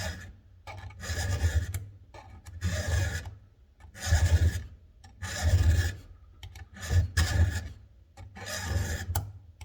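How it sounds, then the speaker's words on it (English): A hand file rasps across saw teeth to sharpen them, in slow repeated strokes of gritty scraping, each about a second long and close up, with short pauses between. "So you just file until you got all the nicks and burrs and chips out of them."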